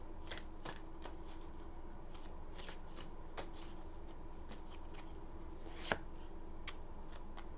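Oracle card deck being shuffled by hand, a quiet series of soft riffling bursts and taps at irregular intervals, with no talk.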